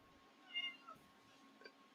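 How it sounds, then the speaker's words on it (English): A pet cat meowing faintly indoors, one short meow followed by a softer second chirp, quiet and close in an otherwise still room. "Here's my cat."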